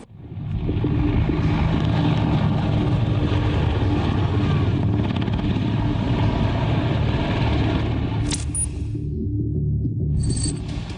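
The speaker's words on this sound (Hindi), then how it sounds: "अजीबोगरीब शक्ल के इस हेलीकॉप्टर का नाम है AH-64E अपाचे" A steady, loud AH-64E Apache attack helicopter drone with dense rotor and engine noise throughout, easing slightly near the end.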